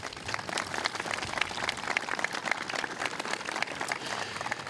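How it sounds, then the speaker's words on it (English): A high school graduation crowd claps in a big space, dense but fairly faint applause sustained evenly with no speech over it. "Let's join them in a round of applause"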